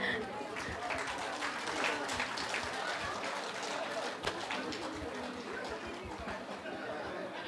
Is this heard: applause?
yes